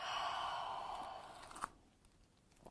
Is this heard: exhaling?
yes